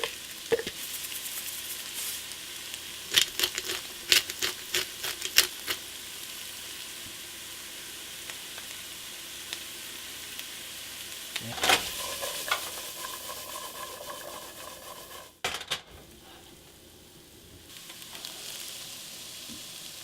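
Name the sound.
chopped onions, peppers and carrots sautéing in oil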